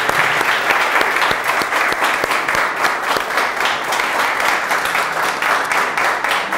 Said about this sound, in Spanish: Vamos a echarle un aplauso